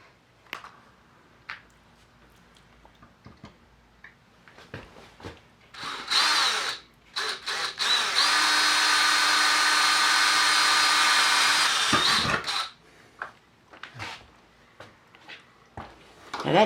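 A power drill bores holes for hanging a window blind indoors, with short bursts followed by a long sustained whine of about four seconds, then a few more brief clicks and handling sounds.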